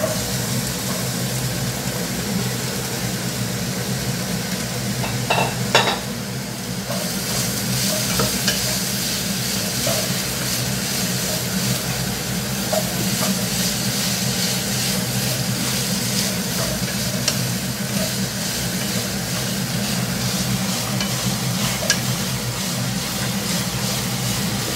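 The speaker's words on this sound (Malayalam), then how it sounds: "ഇനി നമുക്ക് അരിഞ്ഞു വെച്ചിരിക്കുന്ന ചെറിയുള്ളി ഇട്ട് നന്നായി വഴറ്റാം." Chopped shallots sauté in a pan for kappa biriyani, giving a steady, close sizzle and hiss throughout, with occasional stirring scrapes and clinks of the spoon.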